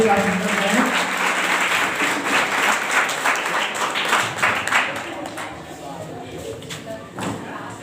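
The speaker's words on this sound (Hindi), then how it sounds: "जोरदार तालियों से" An audience at a government high school farewell ceremony claps loudly. The dense applause runs throughout and fades slightly toward the end, with voices talking underneath.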